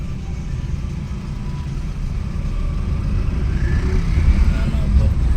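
A cab moving through city traffic between Domlur and JP Nagar, heard from inside the car as a steady hum of engine and road noise that swells slightly toward the end.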